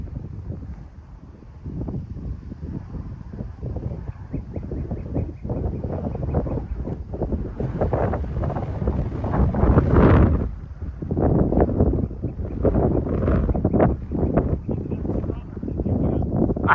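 Strong wind buffets the microphone outdoors while a drone hovers into the gusts on a windy afternoon, a loud continuous low roar rising and falling with a brief stronger gust partway through.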